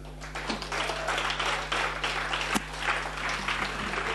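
Steady applause from delegates at a state party conference, many hands clapping at moderate distance over a constant low hum from the hall.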